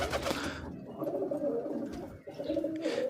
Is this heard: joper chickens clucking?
no